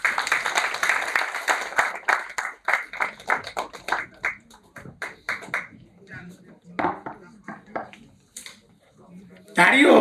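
An audience applauds after a talk on knee joint replacement, giving scattered, uneven claps that rise and fade in bursts, with voices mixed in and a final louder surge of clapping.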